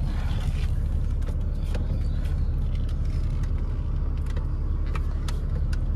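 A 1996 BMW with a six-cylinder 2000 cc engine runs steadily close by, giving a continuous deep, even rumble with a light mechanical whir and a few faint clicks on top.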